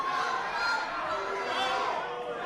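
Wrestling event crowd murmuring, a steady low chatter of many voices filling an arena, fairly faint and continuous with no distinct shouts.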